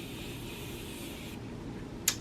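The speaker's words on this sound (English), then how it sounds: "is spraying my face with setting spray first" Morphe setting mist sprays onto a face as a steady, close hiss that lasts about a second and then stops. A small click follows near the end.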